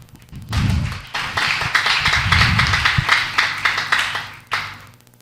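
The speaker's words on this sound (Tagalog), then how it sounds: "Palakpak." A church congregation breaks into a short burst of applause, many hands clapping together in a dense, roomy patter that swells, holds for a few seconds, then thins out and stops.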